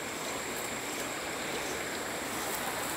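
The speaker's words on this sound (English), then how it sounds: "so that's the waterfall?" Waterfall in a natural outdoor spot, a steady broadband rush of falling water filling the whole moment without pause, fairly close and even in loudness, with no voices.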